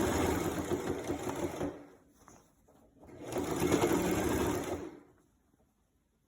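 Sewing machine stitching a skirt seam, running steadily in two bursts of about two and three seconds separated by a brief pause, close and fairly loud with no talking.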